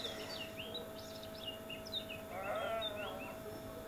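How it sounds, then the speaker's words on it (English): Sheep bleat repeatedly in a tablet farming game, several short wavering cries one after another over a soft steady background, with a brief cluster of chirpy calls near the end. "The sheep are kind of cute, ain't gonna lie. I like the sound they make."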